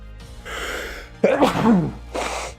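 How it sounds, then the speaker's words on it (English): One person sneezes indoors after a couple of breathy build-up inhales, giving a single sharp, close burst followed by a short trailing breath. "Oh, I feel like I got a sneeze coming on."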